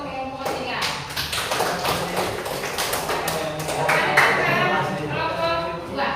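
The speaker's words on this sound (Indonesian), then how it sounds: "Kasih tepuk tangan untuk kelompok 3." A classroom group receives applause at the end of its presentation: dense, steady clapping from many hands fills the whole stretch, close and fairly loud, with scattered taps and a few voices mixed in.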